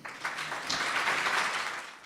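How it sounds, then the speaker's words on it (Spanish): An audience at a lecture on mental disorders and mediumship applauds to welcome the speaker, a dense, even wash of many hands clapping together for about two seconds, fairly close and moderately loud. "Un fuerte aplauso para Alfredo Alonso"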